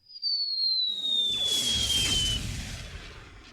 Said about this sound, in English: The captain raised a signal flag and fired a little cannon.